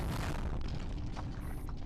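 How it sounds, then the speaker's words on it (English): A massive explosion in the video game Girls Frontline, a dense, loud rumbling boom that fills the whole short stretch without letting up, with no voices over it. "A massive explosion interrupts Bramid."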